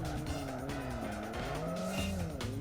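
Mini car drifting in the Live for Speed racing game, its engine droning steadily while the tires squeal in long, wavering tones through the slide, loud and continuous with no talk.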